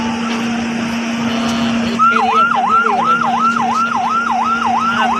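A fire engine siren at the Paturia ferry terminal wails in a fast, repeating up-and-down rise and fall, loud and near, starting partway in over a steady drone of an idling engine.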